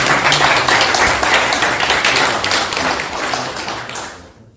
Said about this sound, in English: A special applause for Professor Bilgin.